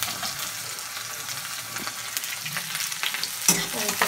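Garlic, onion and green chili fry in a pan for a potato and spinach sabzi, giving a steady close sizzle with scraping stir strokes and a louder burst of crackling near the end, with no talk.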